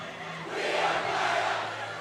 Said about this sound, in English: Good crowd on hand for the last regular season game of this rivalry.